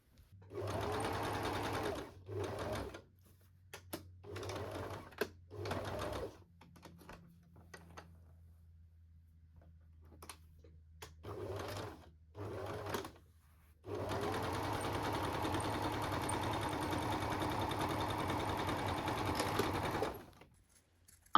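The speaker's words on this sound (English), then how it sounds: "Place the right sides together and sew the seam, being sure to leave a gap for turning." A sewing machine stitches a seam through fabric for a cupcake-themed project bag, running in several short bursts and then one long steady run, close and fairly loud, with no talking.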